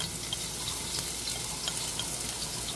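Garlic sautéing lightly over low heat in a pan for chicken tinola, a close, steady sizzle and crackle with small pops and stirring scrapes, no talking.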